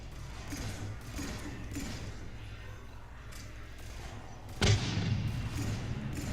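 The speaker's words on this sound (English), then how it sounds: "That was a really loud explosion." Explosion in a Mass Effect 3 multiplayer match: a single loud, sudden boom partway through, rising over a bed of continuous game noise.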